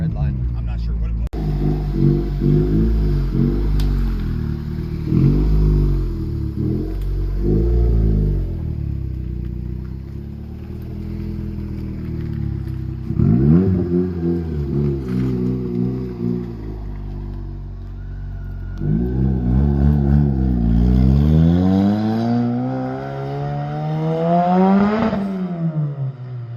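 A turbocharged Toyota MR2 Spyder engine revs repeatedly, rising and falling in pitch with rapid climbs toward redline, loud and close, while people talk excitedly over it.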